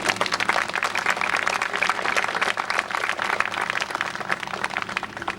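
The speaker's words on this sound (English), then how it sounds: "Give yourself some applause." Crowd applause at a 1998 groundbreaking ceremony, a steady, dense patter of many hands clapping together from start to finish at even loudness.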